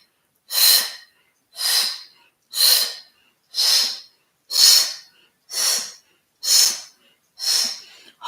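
Steady, breathy exhalations during a yoga twist, eight airy whooshes evenly spaced about a second apart, close and clear with silence between.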